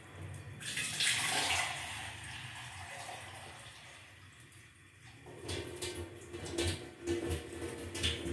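Water is poured into a pan of sweet vermicelli cooked with white sugar, making a close, hissing, splashing flow that rises, fades, and then surges again in uneven bursts.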